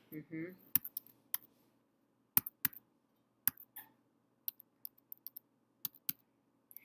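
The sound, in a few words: typing on a computer keyboard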